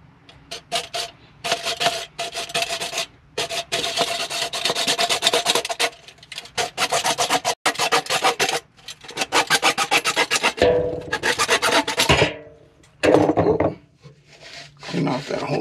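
A drain basket strainer part being trimmed for a dry fit, heard as repeated close rasping, filing strokes in bursts with short pauses, loud and scratchy throughout.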